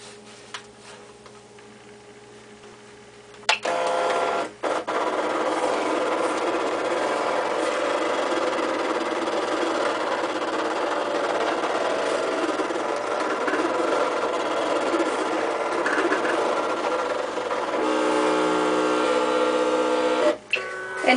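A Cricut cutting machine cuts a 3.5-inch paper heart, whirring and buzzing steadily for about seventeen seconds between quieter stretches of background hum, with clicks as it starts and stops.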